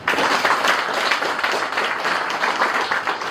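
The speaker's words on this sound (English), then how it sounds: "Kindly can we clap for her?" An audience at an institute launch event claps steadily for a few seconds, a dense, even patter of applause from a crowd in an indoor hall.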